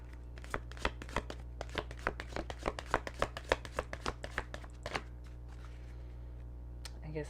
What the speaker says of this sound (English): I'll give you one more shuffle.